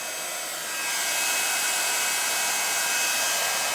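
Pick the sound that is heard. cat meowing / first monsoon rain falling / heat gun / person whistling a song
heat gun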